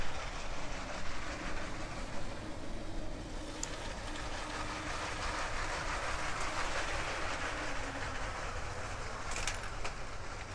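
A LEGO Power Functions toy train runs along its track with a continuous light rattling and clicking, fairly quiet and steady, with a couple of sharper ticks along the way.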